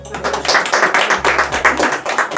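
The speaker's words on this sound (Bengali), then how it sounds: "তা ওনার জন্য একটা জোরে হাততালি" A room of people at an art gallery exhibition clapping for the gallery owner, a burst of close, fairly loud applause with uneven rhythmic peaks lasting a couple of seconds.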